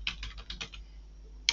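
Short bursts of keystrokes on a computer keyboard while searching for a design element in Canva, several quick taps clustered at the start and one sharp click near the end, close and fairly quiet.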